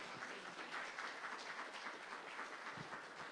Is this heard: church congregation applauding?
yes